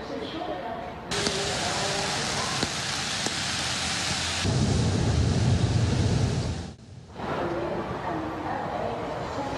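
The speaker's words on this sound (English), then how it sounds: "the rain has already started to fall" Heavy rain from an approaching hurricane in Hawaii pours steadily with a deep rumble of thunder rolling through the middle, dense and close, briefly dipping before the downpour resumes.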